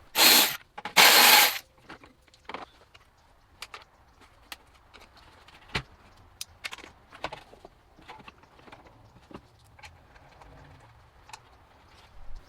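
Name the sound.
removing 10mm screws from BMW E92 335i coolant expansion tank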